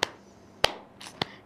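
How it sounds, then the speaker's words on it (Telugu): Three sharp, evenly spaced hand claps ring out close by in a morning television talk show studio during a live quiz segment, each a crisp single slap with quiet gaps between and no voices. "క్లాప్స్,"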